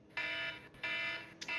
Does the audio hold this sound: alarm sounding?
yes